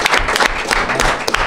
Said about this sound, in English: if we could all give Trey a round of applause for being part of that